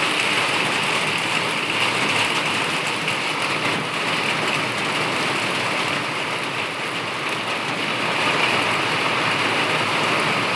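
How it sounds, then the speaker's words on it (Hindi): Steady rain falls outdoors at a home, a dense even hiss of drops on surfaces that holds constant throughout, moderately loud with no talking. "बारिश हो रही माशाल्लाह, मौसम पूरा चेंज हो गया माशाल्लाह माशाल्लाह।"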